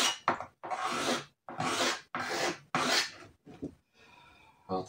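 Hand sanding on the fuel tank of a 1993 Honda CR 125R motorcycle during restoration, heard as a series of close, rasping strokes in an uneven back-and-forth rhythm, about seven bursts separated by short pauses, with no talk.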